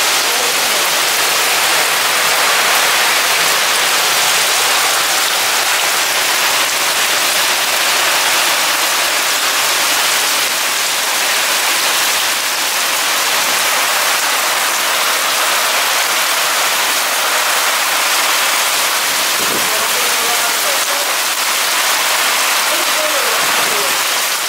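Heavy rain pours down in a dense, continuous roar, loud and close, with no break across the whole stretch and only faint scattered knocks beneath it.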